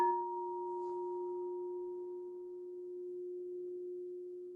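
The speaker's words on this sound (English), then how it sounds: "Allow the sound of the bowl to help your mind anchor in the present moment." A meditation singing bowl rings alone with a steady sustained tone and a fainter higher overtone, fading slowly over several seconds during a quiet meditation and pranayama session.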